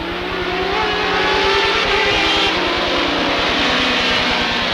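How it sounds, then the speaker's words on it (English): At Rockford Speedway, a field of race cars roars loudly as the green flag drops, with a dense, sustained blend of engines revving hard and accelerating close by. "Here they come out of turn number 4. Green flag, we're racing."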